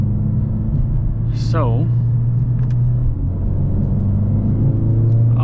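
A Mercedes-Benz CLA45 S AMG in manual mode pulls hard in third gear, its turbocharged engine a steady loud interior drone rising under load, while someone talks over it throughout.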